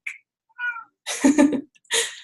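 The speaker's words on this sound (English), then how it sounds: "My cat is deciding to drink." A cat meows several times in a row, close to the microphone, the short calls rising into a longer, drawn-out yowl before a final meow, with quiet gaps between them.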